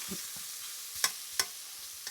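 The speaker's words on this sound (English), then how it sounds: "Okay, bacon is frying." Soft sizzling of partly frozen bacon frying in a pan, with a few sharp clinks and scrapes of a utensil against the pan.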